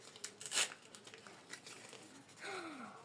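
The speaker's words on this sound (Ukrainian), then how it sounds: "Сьогодні відкриваємо ось цей пакетик." A small paper surprise packet being torn open, with a sharp close rip followed by soft crinkling and rustling of paper and a faint breathy vocal sound near the end.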